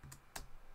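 Two quick keystrokes on a computer keyboard, close and crisp, come in a brief burst against a quiet room.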